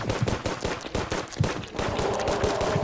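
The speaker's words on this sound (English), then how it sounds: "we're firing at him" Rapid, repeated gunfire from a weapon in the video game Terraria, a steady stream of close, loud shots with a few heavier bursts, no talk over it.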